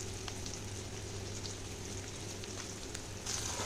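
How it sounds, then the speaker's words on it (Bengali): Chopped onions and nigella seeds fry in a karahi still oily from frying fish, giving a continuous close sizzle with fine crackling spatter at steady loudness and no talk. "তো এবার পেঁয়াজটাকে একটু ভালো করে ভেজে নেব।"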